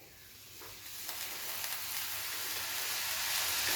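Sevai frying with condensed milk over a low flame, a continuous close sizzle broken by soft scraping stir strokes, gradually growing louder, with no one speaking.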